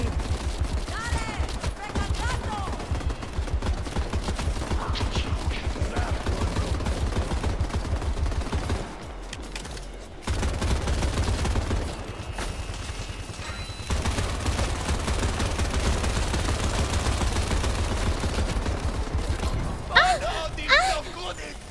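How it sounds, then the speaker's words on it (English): Cluster grenades burst in a chaotic video game fight, a dense rattling fusillade of small explosions and mechanical clatter running almost continuously, pausing briefly midway, with voices talking over it. "Let's see if we kill each other with the cluster nade."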